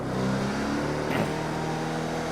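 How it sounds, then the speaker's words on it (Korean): Scooter engine revved hard with the throttle held open during an indoor riding lesson, a steady loud mid-pitched drone with harmonic bands and a brief surge near the middle, no speech. "스로틀 한번 쭉 돌려서 RPM을 올려볼게요"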